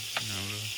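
Onions fry in a pan at a camp cookout, giving a steady close sizzle with a low hum running beneath it and one brief scrape or stir near the start.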